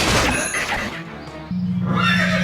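Horse neighs from the Ben 10 Alien Force video game, where knights ride into battle on horseback; a loud whinny with a held tone near the end, set against game sounds.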